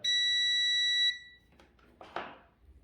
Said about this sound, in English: if these two lines are connecting, it will give a beep, like shown.